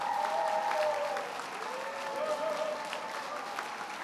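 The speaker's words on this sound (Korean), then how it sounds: "여러분들 큰 박수로 축하해 주시기 바랍니다." A church congregation applauds a graduate at a discipleship college graduation ceremony, a dense wash of clapping that starts strong and settles to a steady, slightly softer roar, with faint voices mixed underneath.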